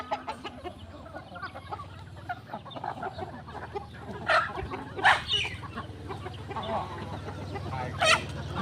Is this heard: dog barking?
no